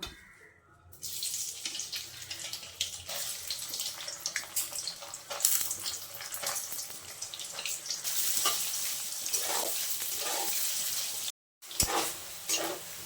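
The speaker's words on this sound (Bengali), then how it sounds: "এখন আমি সয়াবিনগুলো ভেজে নেব" Soybean chunks sizzle loudly as they fry in hot oil, with stirring scrapes breaking in at intervals and a brief gap near the end, heard close and alone without speech.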